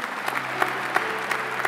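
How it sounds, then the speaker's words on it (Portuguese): A church congregation at a Mass with a relic of Saint Therese claps briefly and somewhat sparsely, the individual claps distinct and moderately quiet over a low steady hum. "vamos aplaudir Santa Teresinha"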